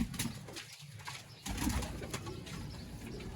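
Sialkoti pigeon chicks give soft coos and a few sharp wing flaps nearby, with the sounds coming in brief bursts over a quiet background.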